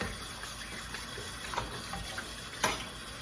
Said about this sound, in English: run it over water